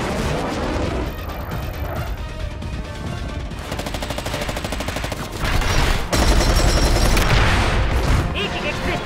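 Dense, loud gunfire from aircraft and ground positions in a Gundam Requiem for Vengeance battle scene, with rapid machine-gun bursts and heavier booming impacts layered continuously, growing more intense toward the end.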